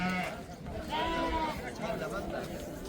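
Sheep and lambs bleat repeatedly at a busy livestock market, their calls rising over a steady murmur of people talking nearby.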